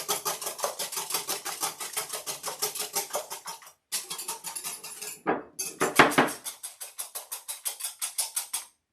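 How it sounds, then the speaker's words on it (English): A whisk beating ingredients in a bowl until foamy, brisk rhythmic metallic clicks against the bowl in quick regular strokes, a brief pause and a couple of knocks partway through, then more steady whisking. "we are going to whisk these until they're foamy"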